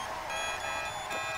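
A car horn in GTA 5 blares continuously for about a second and a half, loud and steady with a tonal, buzzing quality.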